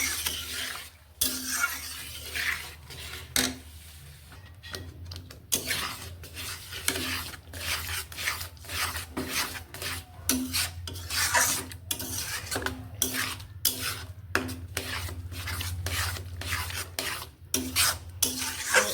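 Dry semolina (suji) being stirred continuously in a pan, a steady, rhythmic scraping of a spoon across the metal with gritty rasps and frequent clinks, close and sustained with no talking.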